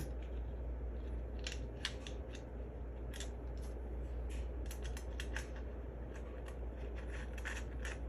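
A small screw drops into a slot and is driven into a threaded hole, making a series of quick, crisp metallic clicks and ticks in bursts over a faint steady hum, close up, with no talking.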